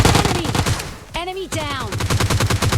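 Rapid automatic gunfire in the PUBG Lite battle royale game, loud close bursts of repeated shots that pause briefly behind a tonal game sound, then resume in a fast rhythm.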